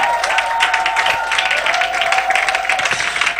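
A church congregation praising Jesus applauds and cheers loudly and continuously, a dense wash of clapping with raised voices mixed in.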